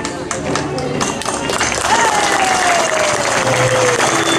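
A crowd at an Independence Day street parade applauds the military police in steady, dense clapping, with a whistle and a continuous murmur of voices underneath.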